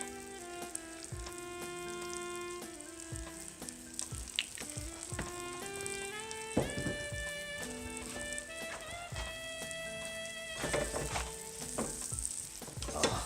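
Veal fries in olive oil in a pan, a steady close sizzle and crackle with bright popping throughout.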